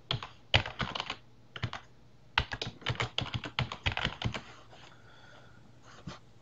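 Keyboard typing on a computer while setting up Windows 10 IoT Core for a Raspberry Pi, close bursts of quick key clicks in several runs with short pauses, then trailing off into quiet near the end.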